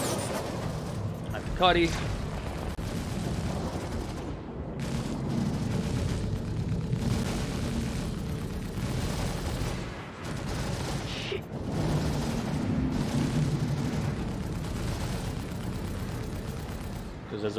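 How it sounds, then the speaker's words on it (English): Missiles launch and explode in Star Citizen during a space battle involving a 125A ship, with a continuous rumbling barrage and repeated heavy blasts. A player talks over the combat. "I'll launch some missiles"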